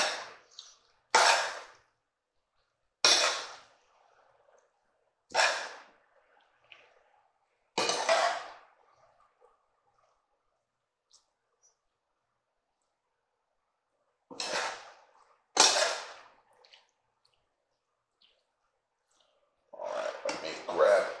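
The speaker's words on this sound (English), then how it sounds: "we're gonna give this a good mix because we wanna make sure the pasta gets all that sauce" A spoon works pasta through sauce for Italian drunken noodles, producing a series of short, loud scraping and clattering bursts spaced a few seconds apart, with stretches of near silence in between.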